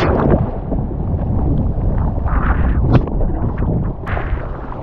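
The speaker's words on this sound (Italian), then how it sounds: "Buco di vento, girato il vento" Loud, blustery, shifting wind buffets the microphone in uneven gusts while wing foiling on water, with rumbling low noise and a few sharper bursts, no speech.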